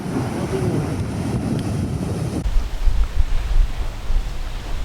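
Strong coastal wind buffets the microphone in a steady, loud rush with a low rumble, shifting partway through to a deeper, gustier roar, with no voices.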